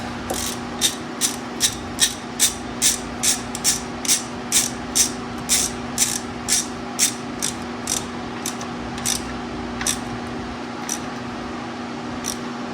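A ratchet tightens a 10 mm bolt on a 2011-2021 Jeep Grand Cherokee, giving a steady train of crisp, close clicks at a regular pace that slowly thin out and fade toward the end over a low steady hum.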